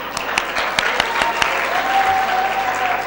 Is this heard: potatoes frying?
no